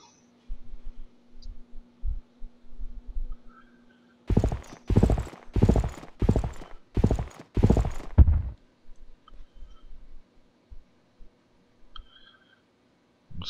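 Cavalry horses on the move in the Civilization III video game, a quick run of about eight loud, evenly spaced hoof clops set between softer clicks and quiet stretches.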